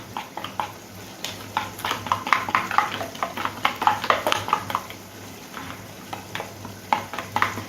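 Crushed red chili being stirred into biryani masala in a pot, a spoon scraping and clinking in irregular bursts over a faint sizzle, close and without talk.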